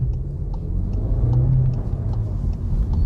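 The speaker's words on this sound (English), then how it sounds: "This car sounds alright." A SEAT Leon car engine accelerating on the road, heard from inside as a steady, low rumbling drone with a rising engine note and faint clicks above it, no talk.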